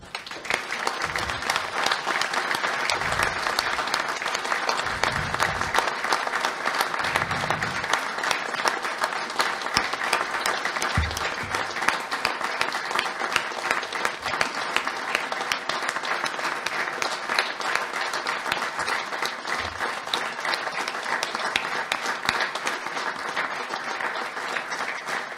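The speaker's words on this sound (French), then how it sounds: "et de les applaudir." A standing crowd at a municipal sports assembly applauds in memory of deceased members, sustained dense clapping that holds steady and loud for the full length, with a few low thumps beneath.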